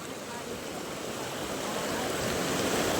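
Steady rush of a river stream during a hiking crossing, broadband and continuous, growing slightly louder toward the end, with no distinct voices.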